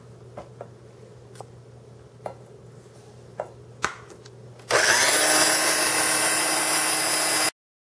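An electric mixer beats egg whites and sugar for a chocolate chiffon cake, starting abruptly after a few light kitchen knocks and then running as a loud, steady whir for nearly three seconds before cutting off.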